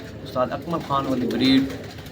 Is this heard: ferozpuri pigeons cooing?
yes